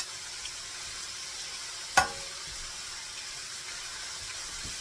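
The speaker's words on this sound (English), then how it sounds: "We're frying up all these" Mushrooms fry on a hot Vevor griddle with a steady, quiet sizzle, broken once by a short sharp scrape or clack of a utensil.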